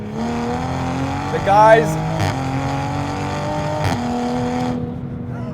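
A 490 hp full bolt-on A90 Toyota Supra accelerates hard, its engine droning loudly and steadily with quick gear shifts breaking the rising tone, heard from inside the car while someone speaks briefly.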